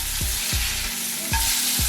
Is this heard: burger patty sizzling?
yes